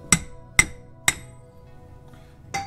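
Three sharp hammer blows ring out at an even pace on the suspension of an MK7 VW Golf during a wheel bearing job, each with a bright metallic clang, then a fourth softer hit after a pause; close and loud, no talk.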